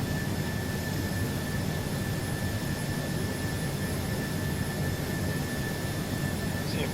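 Steady, unbroken roar of Airbus A330-300 jet engines in cruise climb in Microsoft Flight Simulator, a constant broadband drone with a faint high whine, no talking.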